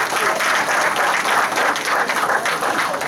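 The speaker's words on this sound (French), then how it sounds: "Applaudissez Amy" A live audience at a Geek Faëries festival magic show applauds a volunteer named Amy with a steady wash of clapping that holds for about three seconds.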